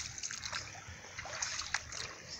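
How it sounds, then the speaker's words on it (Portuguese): A thin trickle of water running in the low, shallow Arroio Tigre stream, soft splashing and gurgling heard faintly and steadily, with small irregular splatters. "Só corre esse filete aqui, ó. De água."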